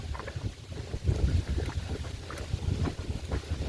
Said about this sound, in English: Wind's picking up, so I'm going to head back out to the open and start doing some long grids again.